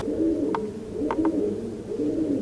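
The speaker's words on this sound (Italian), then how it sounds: "Ma senti come tuba sto piccione" Pigeon cooing inside a catacomb, a few soft short coos heard close by over a steady low background hum, with no talking.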